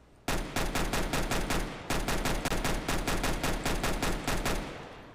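A high-capacity pistol firing in Counter-Strike: Global Offensive, loud close shots in a fast steady string, a short burst then a brief pause and a longer rapid run, alone.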